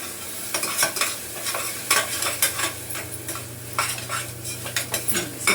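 A spoon stirs and scrapes masala sautéing in a pan, with soft sizzling beneath irregular metallic clinks and scrapes, close by and without speech.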